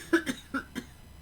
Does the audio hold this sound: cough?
yes